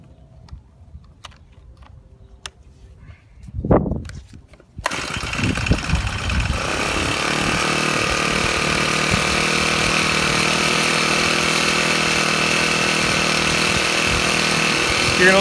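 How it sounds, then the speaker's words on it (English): A Honda GX35 four-stroke trimmer engine: a few pull-start tugs and a brief sputter, then it catches and settles into a steady, loud, buzzing run that continues to the end. "So to start off, start your engine."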